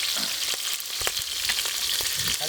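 Chillies and leaves frying in hot oil for a chicken fry, a steady loud sizzle and crackle with occasional spatters and stirring, with no voices over it.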